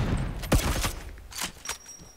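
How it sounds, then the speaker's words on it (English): Gunfire in the video game ReBlIx, a few sharp close shots with a quick burst around the middle, set against a busy game backdrop with no speech. "Trying to shoot people who are shooting at you."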